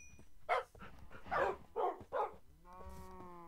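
A dog in the game Minecraft gives several short, sharp barks in quick succession, followed by a high, drawn-out whimper trailing off at the end.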